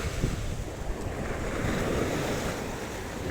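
Sea waves wash in steadily with the rising tide on a shore, a broad continuous surf rush with wind buffeting the microphone and no voices.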